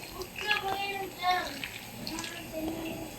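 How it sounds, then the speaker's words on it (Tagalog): Hot water splashes and gushes as it is poured to scald a food container while making bukayo. The pouring is uneven, and voices and clatter from the kitchen can be heard behind it. "para hindi siya mapanis, babanlian natin ng mainit na tubig"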